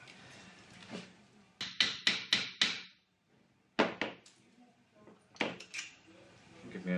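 Steel trunking being bent in a vise in a workshop: a series of sharp metallic clanks and taps in quick clusters with pauses between, close and fairly crisp.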